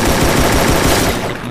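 Rapid automatic gunfire from the battle royale game Garena Free Fire, a dense loud burst of shots lasting over a second before it trails off.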